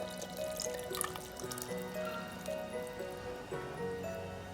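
Saffron milk poured into a simmering Zykedar chicken curry gives a soft, steady liquid trickle with faint drips, set against a constant background hum and tonal sounds throughout.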